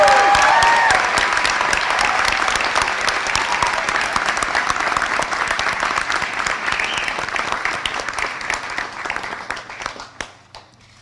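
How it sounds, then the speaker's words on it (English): Sustained crowd applause for graduates at a 2024 university commencement ceremony, dense steady clapping from a large audience that holds strong for most of its length before thinning and tapering off near the end. "let's just do another round of applause for all of our graduates."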